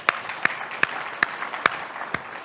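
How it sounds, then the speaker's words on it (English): A small audience at a technical conference talk gives a round of applause, heard as a sparse, fairly quiet string of about six distinct claps spaced evenly over a couple of seconds. "So I guess a round of applause is kind of like due here."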